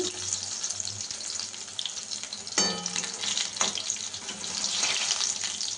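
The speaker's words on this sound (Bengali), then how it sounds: "এইটা লঙ্কার বেগুনি ভাজা" Loud, continuous crackling of chili fritters deep frying in hot oil, with a few sharper pops and stirring clatters partway through.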